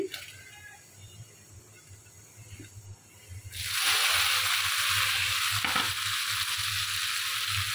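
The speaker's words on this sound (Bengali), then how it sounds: "শাক এখন তেলে দিয়ে দিচ্ছি" Kalmi shak (water spinach) greens go into hot oil with onion and garlic; after a few quiet seconds a loud, steady sizzle bursts in and holds to the end, with a brief knock near the close.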